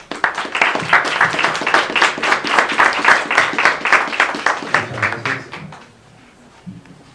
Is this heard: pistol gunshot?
no